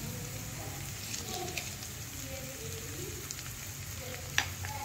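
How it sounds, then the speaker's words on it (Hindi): Potato sandwich filling roasting in a pan: a continuous soft frying hiss with light scattered scraping and one crisp clink near the end, fairly quiet, with no talking. "आलू के साथ इसे भून लेंगे।"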